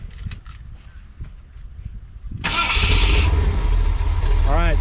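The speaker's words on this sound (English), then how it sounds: "let's get to our last engine of the day, being the big block 460." Ford big block 460 V8 in a 1979 full-size truck cranking and catching, a brief starter whine bursting into a loud, rumbling idle after quieter background sounds and talk at the start.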